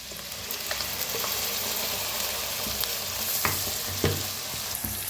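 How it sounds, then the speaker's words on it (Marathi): Onion and masala paste frying in oil for an egg curry, a continuous hiss with repeated spoon scrapes and taps as the mixture is stirred, close and steady, no talking. "छान मसाला भाजायला लागलाय"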